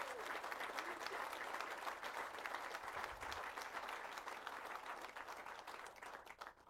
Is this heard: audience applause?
yes